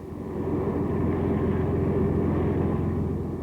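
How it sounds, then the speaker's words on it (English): A deep, continuous drone of World War II Japanese aircraft engines swells and holds steady, loud and rumbling as the planes pass overhead. "The invasion craft were attacked by more than 30 Japanese planes."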